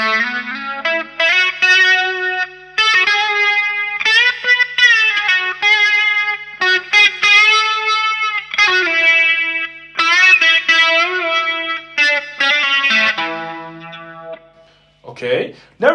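Electric guitar playing a solo through effects, with bent, sustained lead notes and phrases under chorus, echo and light distortion, loud and up close, ending in a short burst of scratchy noise.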